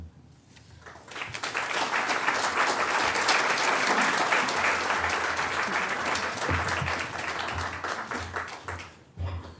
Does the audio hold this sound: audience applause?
yes